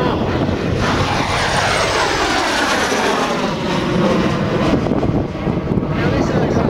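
Loud jet aircraft engine roaring as the world's oldest airworthy jet, a former Royal Air Force plane retired in 1965, flies past, its pitch sweeping downward as it passes and recedes, steady and continuous with some wind noise.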